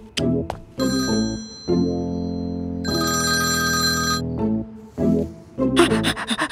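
A phone rings with a loud electronic ringtone melody, repeating in close bursts with short pauses between and no one speaking over it.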